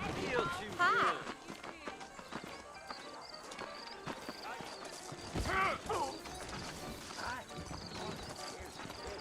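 Horses walk in a video game, hooves clip-clopping steadily amid creaking wagon mechanisms, with occasional whinnies and talking voices layered over the plodding rhythm.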